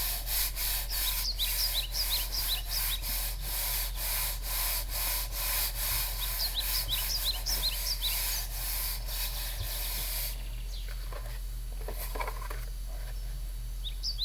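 Glued paper cutouts being rubbed flat by hand, a steady series of close, brisk scratchy rubbing strokes in a quick rhythm; a bird calls faintly in the background and the rubbing stops near the end.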